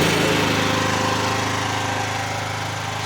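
Single-cylinder engine of a brand new Vicsec 15 mini excavator running right after starting, a loud, close, steady rapid chugging that eases slightly toward the end.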